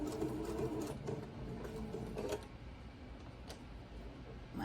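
A sewing machine stitches a quilt seam over pins with a quick, even mechanical chatter. It runs steadily, then slows and eases off into softer ticks near the end, close and moderately loud with no talking.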